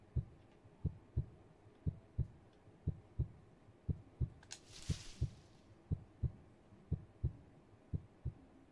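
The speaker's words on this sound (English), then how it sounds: "Oh, it's got that Dead by Daylight heartbeat." A steady, rhythmic heartbeat effect from the horror video game Paper Lily thumps evenly at close range, with a short brighter noise burst partway through.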